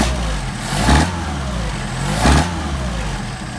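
A Mercedes 190SL engine fitted with Solex 44PHH carburetors, close and loud, rising twice from a steady idle into short revs with pitch sweeping up and back down, no talking.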